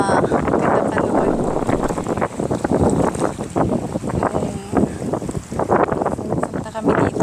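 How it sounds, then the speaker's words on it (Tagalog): Strong outdoor wind buffets a microphone with rough, gusty rumbling that rises and falls over several seconds. Speech is mixed in. "Malakas ng hangin lang guys, pasensya na po, malakas na hangin."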